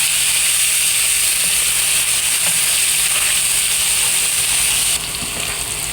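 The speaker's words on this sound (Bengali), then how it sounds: "দেখতে পাচ্ছেন মশলাটা কষে আসছে" Mixed spice masala fries in a pan, giving a steady, loud hiss and sizzle that carries on throughout with no voices.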